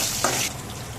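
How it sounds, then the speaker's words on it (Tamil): Dried red chillies frying in hot oil in a pan for coconut milk rasam, a steady close sizzle with a brief stir near the start and no talk. "காஞ்ச மிளகா வறுபட்டுச்சு"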